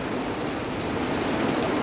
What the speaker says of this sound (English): It's really coming down. I'm sure you can hear it on the metal roof.